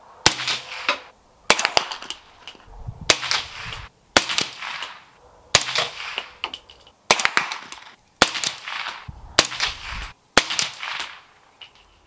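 Rifle shots from a budget 300 Blackout build firing Federal FMJ ammunition at an outdoor range, about nine sharp, loud cracks spaced roughly a second apart, each followed by a short decaying echo, with no talking.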